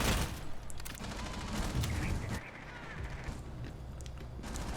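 Bursts of gunfire crackle through a Rainbow Six Siege esports match, rapid shots mixed with a few sharper cracks over busy game noise, fairly quiet in the mix, with a commentator speaking over part of it.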